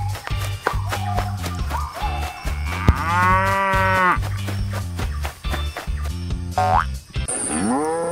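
Cows in Jurassic World Evolution 2 let out loud, drawn-out moos, several in a row with short gaps, over steady game background music and a springy boing near the end.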